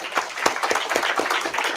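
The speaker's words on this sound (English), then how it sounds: "Give him a round of applause, please." Brief burst of audience applause at an evening huddle-up session, scattered claps with sharp individual hits standing out over a moderately loud, short spell of clapping.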